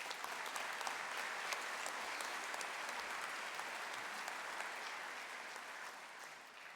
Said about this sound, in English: please give this academic staff a round of applause